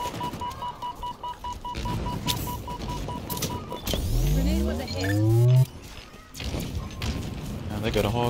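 Warthog vehicle from Halo Infinite on the Highpower map, engine revving and rising in pitch as it closes in, with a loud climbing whine over game gunfire and thuds, then cutting off abruptly.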